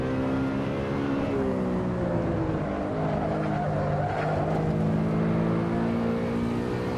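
A BMW E92 M3 racing in Assetto Corsa, its engine note droning steadily through shifting revs while tires squeal and scrub through a corner, loud and continuous with no talk.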